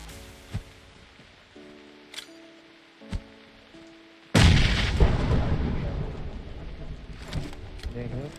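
Grenade explosions in the mobile battle-royale game PUBG Mobile: a few sharp, scattered pops, then a sudden loud blast that rolls into a dense, sustained rumble of debris and gunfire, with faint voices underneath.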